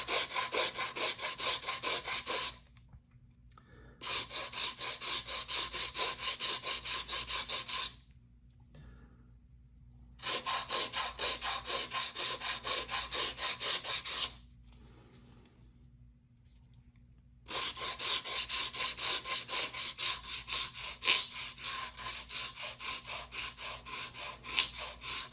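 Foam core bottle mock-up being sanded by hand: steady scratchy rubbing in three long, even bursts separated by short quiet pauses, close and fairly loud.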